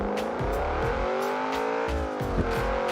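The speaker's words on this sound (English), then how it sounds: "That is too noisy for a road car." A car engine in the driving game BeamNG revs hard and steadily, a loud buzzy drone with rising and falling pitch and repeated throttle pulses, continuous throughout with no talking.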